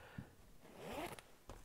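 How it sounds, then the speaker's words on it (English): Metal ring zipper on a Barbour gilet being drawn along its track, a single short rasping zip rising to a peak near the middle, close and quiet, with a brief tug of the pull at the start and end. "And it's a double zipper too, so you can come up or you can go down."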